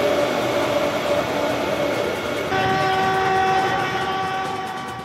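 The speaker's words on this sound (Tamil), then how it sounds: "வந்தே பாரத் ரயிலின் சிறப்பு சோதனை ஓட்டம் ராஜஸ்தான் மாநிலம் கோட்டா நாக்டா இடையே நடைபெற்றது" A Vande Bharat train on a high-speed trial run between Kota and Nagda in Rajasthan, with a steady loud rush of rolling stock and a sustained horn blast joining partway through.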